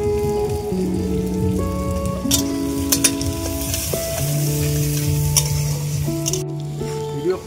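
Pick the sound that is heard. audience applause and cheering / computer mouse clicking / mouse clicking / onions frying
onions frying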